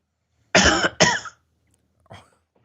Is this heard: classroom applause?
no